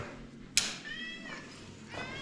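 A small cat meows faintly at a campground dugout in Coober Pedy, two or three drawn-out mews over a quiet indoor background with a brief knock.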